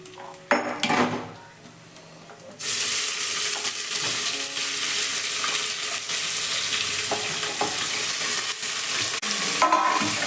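Onions frying and sizzling in a hot pan for chicken biryani, stirred with a utensil that scrapes and clinks against the metal; a brief clatter opens, then a loud, steady sizzle runs throughout.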